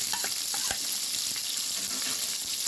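Onion fries in a hot pan with a loud, dense, continuous sizzle, broken by occasional stirring scrapes and small crackles up close. No one speaks.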